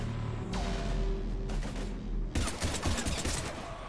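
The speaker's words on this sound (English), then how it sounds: "we're taking heavy fire" Dense, sustained gunfire from a sci-fi firefight in Mass Effect 3, with rapid overlapping bursts under a low rumble. The shots turn sharper and more clustered near the end.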